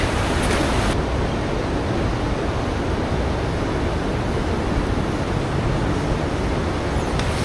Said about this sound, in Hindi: इस तरफ से बहुत ज़्यादा नॉइज़ आ रहा होगा आपको पानी का, क्योंकि पानी बह रहा है।